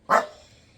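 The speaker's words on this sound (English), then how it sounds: "my doggy heard something and started barking." A small house dog gives a single sharp, loud bark close by, with a short fading tail and no other sound around it.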